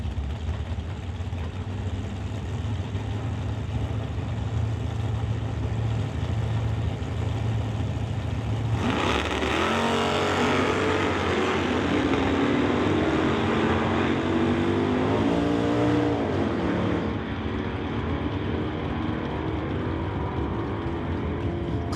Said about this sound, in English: Brings up Tim Corner now in his Freak Child pickup to race Veronica Hodgson's Dodge Dart.